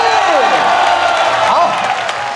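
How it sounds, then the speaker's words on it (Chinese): Loud, steady applause and cheering from a baseball crowd at a Fubon Guardians game, continuous throughout with a voice talking over it. "掌声鼓励"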